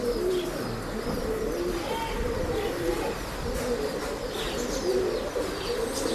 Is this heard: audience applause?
no